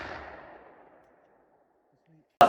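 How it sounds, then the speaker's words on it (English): A single sharp, loud rifle shot fired at a bull elk during a South Dakota hunt, bursting out abruptly after a stretch of near silence that follows a fading earlier rumble. "My grandpa made a nice shot and hit the bull a little far back"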